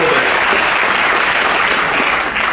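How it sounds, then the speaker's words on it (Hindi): Audience applause welcoming a minister at a political gathering, loud dense clapping from a large crowd, sustained throughout. "सभी तालियों के साथ स्वागत करें प्रभारी मंत्री महोदय।"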